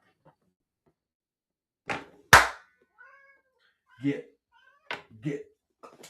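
A cat gives a few short meows, spaced apart between quiet gaps, with a sharp thump and someone speaking briefly nearby.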